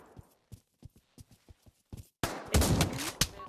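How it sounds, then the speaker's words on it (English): Gunshots in the Pavlov VR shooter game: a run of sharp, separate reports at first, then a dense, loud burst of blasts and echoing fire near the end. "I want to shoot him through the window."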